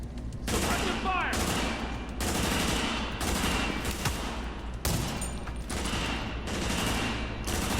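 Sustained suppressive gunfire from The Division, a third-person shooter, rattles in dense repeated bursts for the whole stretch, broken by brief pauses, with a voice talking underneath.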